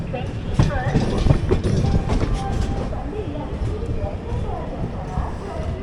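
At Kazipet Junction, a train rumbles and clatters on a parallel track while pulling into the station, heard from aboard an express train. The rolling wheel noise is steady and close, and someone talks over it.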